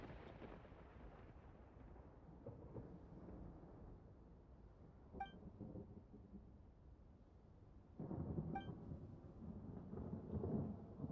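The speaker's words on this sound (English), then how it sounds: "why is it like thunderstorming right now?" A thunderstorm in a video game rumbles low and steady throughout, with heavier rolling thunder swelling in the last few seconds and a pair of faint tonal chimes over the storm.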